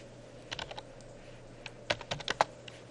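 A few keystrokes on a computer keyboard, quiet and close, a short cluster of taps followed by a quicker burst of clicks, with no talk.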